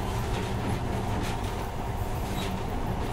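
Monorail train running in the video game Metro Last Light, a steady, dense rolling rumble with a faint metallic hiss on top, continuous and fairly close throughout.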